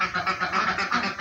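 Ducks in a duck pen quacking loudly and continuously, several overlapping raspy calls pulsing close to the recorder with no talk.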